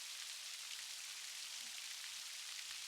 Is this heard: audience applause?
no